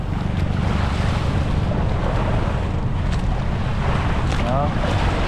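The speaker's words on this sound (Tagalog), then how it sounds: "Yan ang alon." Sea waves slap and wash against a fiberglass yacht out on open water, a constant rushing roar mixed with heavy wind buffeting the microphone.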